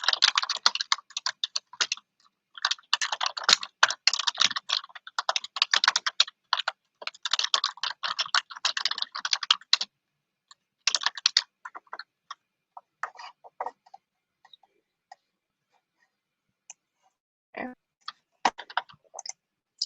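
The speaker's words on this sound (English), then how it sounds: "I always forget about like how loud my keyboard can be" Fast typing on a loud Mac computer keyboard: dense bursts of crisp clicking for about ten seconds, then sparser scattered keystrokes with short pauses, close and alone.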